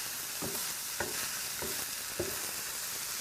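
Cauliflower rice frying in a pan gives a steady, loud sizzle, and a utensil pushes and scrapes through it in four or five distinct strokes at a slow, even pace.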